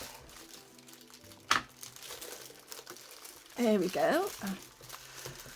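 Plastic packaging crinkles during a small haul unboxing, with brief rustles and a louder burst of crinkling near the end; a person speaks briefly over it.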